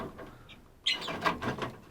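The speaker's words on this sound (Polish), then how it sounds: "Czyli takie dosyć spokojne papugi." Calm parrots in an aviary give a brief soft chirp, then a louder burst of squawky chatter, close by and otherwise quiet.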